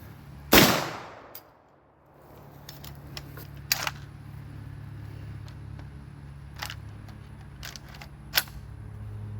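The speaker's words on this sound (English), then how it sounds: "now I got my JTS Chinese AK shotgun thing. Loaded up with some slugs." A JTS Chinese AK-style shotgun loaded with slugs fires a single loud, close blast that decays quickly, followed by sparse faint metallic clicks and handling noises against low background hum.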